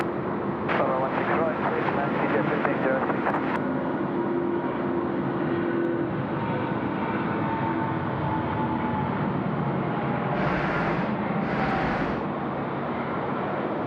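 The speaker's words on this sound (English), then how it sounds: "Singapore 242 is off to Singapore. The A350-9er." Singapore Airlines Airbus A350-900 taking off at night from Sydney Airport, a steady broad jet roar holding loud throughout, with someone talking over it early on.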